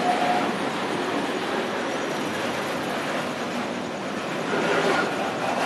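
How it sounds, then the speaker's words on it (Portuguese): A short but heavy freight train loaded with steel billets arrives, a loud continuous rumble of rolling wagons and engine noise passing close by without a break. "Estamos aí presenciando a chegada aí do trem com tarugo."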